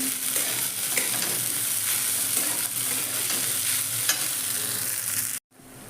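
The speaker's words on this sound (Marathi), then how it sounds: "आता बटाटा आणि मिरची चांगली फ्राय झालेली आहे आपण साबुदाणा घालून घेऊया नाही घालून भाजायचं चांगलं" Sago pearls roast with fried potato and green chilli in a pan, giving a steady close sizzle under continuous scraping stirs. The sound cuts off abruptly near the end.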